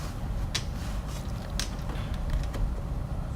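Control panel being pulled out of a smoking Bosch dishwasher, with a couple of faint creaks and plastic clicks over a steady low hum.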